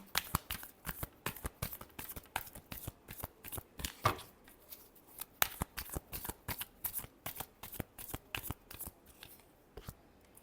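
A deck of tarot cards is riffled and shuffled repeatedly, a rapid series of crisp flapping bursts close by, fairly quiet, with brief pauses between shuffles and no talking.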